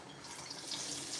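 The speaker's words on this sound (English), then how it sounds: "Just going to give it a quick wash" Running tap water pours steadily into a kitchen sink as vegetables are given a quick rinse, a continuous close splash with no talking.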